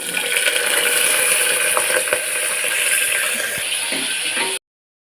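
Onions and whole spices frying in about four tablespoons of oil in a pressure cooker, a bright, dense sizzle with occasional metallic clicks and taps of stirring, close and continuous before stopping abruptly.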